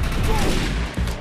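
Rapid gunfire bursts from the video game Defiance, loud and close, with a steady rattle of shots and a brief dip near the end before the firing resumes.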